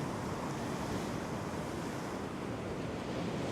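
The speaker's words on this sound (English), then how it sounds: "Just got some big waves coming" Big ocean waves break and wash continuously onto a coastline at sunrise, a loud, steady roar of surf with wind buffeting the microphone throughout.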